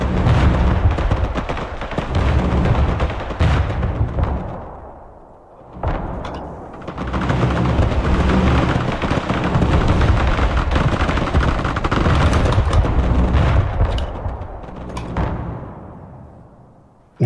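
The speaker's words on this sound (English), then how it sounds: "I'll do what I can with artillery" Sustained artillery barrages and explosions in the video game Broken Arrow: heavy, continuous booming and rumbling with overlapping blasts, a brief lull partway through, then a renewed dense roar that fades at the end.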